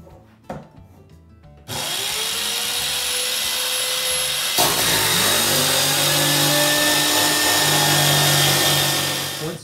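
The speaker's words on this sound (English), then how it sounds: "One of the saws we'd like to use is a mini circular saw with a guide." A mini circular saw with a guide spins up sharply and cuts straight through material for a linear drain installation, loud and sustained with a whining motor tone that shifts as the blade bites, after a few light handling knocks.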